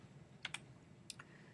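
Two quick pairs of computer keyboard key presses, close and crisp but quiet, spaced by a short pause, with no voices.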